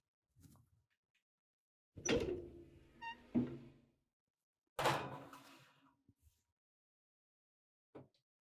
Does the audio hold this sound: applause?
no